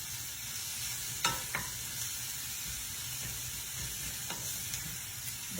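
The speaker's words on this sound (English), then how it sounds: "I'm going to go ahead and put my leftover roast that I shredded up" Shredded leftover roast frying in a pan for a fajita quesadilla: a continuous close hiss with a few sharp clinks of a utensil against the pan.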